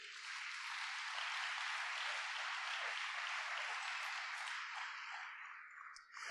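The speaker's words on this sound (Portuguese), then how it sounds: "Quem pode dar uma salva de palmas para ele?" A congregation in a church service breaks into sustained applause, a steady wash of many hands clapping at moderate volume that tapers off in the final second.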